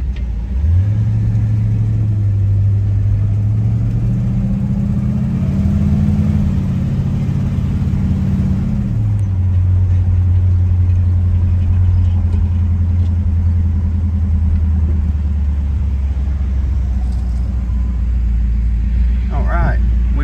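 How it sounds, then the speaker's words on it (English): A 1966 Chevrolet Chevelle Malibu on a test drive, its engine rumbling steadily throughout, rising in pitch as it accelerates early on, then dropping to a lower, even drone while cruising. "Take this 1966 Chevrolet Chevelle Malibu for a test drive and see how it does."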